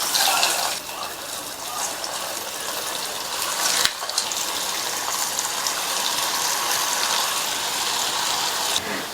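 Vegetarian kola urundai balls fry in hot oil on a low-medium flame, a loud, continuous hissing bubble with a sharp crackle near the middle, steady throughout.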